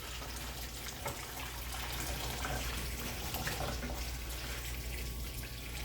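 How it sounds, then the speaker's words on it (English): Liquid pouring slowly into a roux for gravy, a steady continuous trickling stream at moderate level with no talk. "So we're just going to slowly drain the liquid into our roux mixture."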